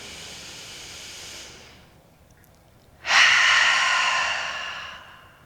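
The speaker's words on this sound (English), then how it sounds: "join me for one cleansing breath in and out" Slow, deep cleansing breath during a yoga session: a soft airy exhale fades out, a brief pause follows, then a strong close inhale-exhale rush slowly tapers away.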